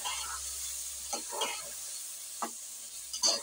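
Turmeric and cumin frying in a pan, a steady soft sizzle broken by several short bursts of stirring and scraping, close and fairly quiet.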